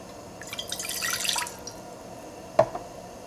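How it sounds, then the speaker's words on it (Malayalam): Half a glass of water poured into a small pan on the stove, a short soft trickle and splash lasting about a second, then a single faint drip, quiet and close. "ഇതിലേക്ക് 1/2 ഗ്ലാസ് വെള്ളം ചേർക്കുക."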